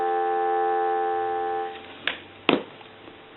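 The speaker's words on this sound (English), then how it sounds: "Give you some dial tone." A steady telephone dial tone from a clear transparent Teleconcept phone under repair holds for under two seconds, then cuts off and is followed by a few sharp, isolated clicks.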